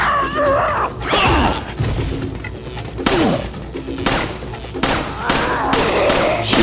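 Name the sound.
gunshots in a video game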